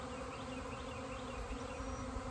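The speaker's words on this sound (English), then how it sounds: "I'm pretty sure this hive is getting ready to swarm." A honeybee swarm flies about an Osage orange tree before being hived, a dense, steady outdoor buzz of many wings that holds unbroken throughout.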